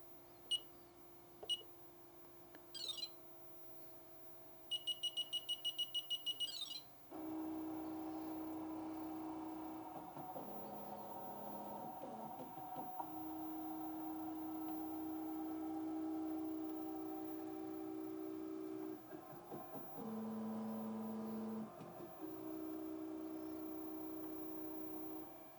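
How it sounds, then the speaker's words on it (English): An embroidery machine runs a trace of its design area around a hoop on a sweatshirt for a baby onesie appliqué, first giving a few quick electronic beeps, then a steady near motor hum with brief pitch shifts as the frame moves. "So I'm going to go ahead and tell my machine to trace."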